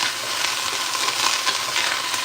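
Food fries steadily in a pan, cooking down toward caramelization, with a continuous broadband sizzle and a few soft stirring scrapes, moderately loud and close, with no voices.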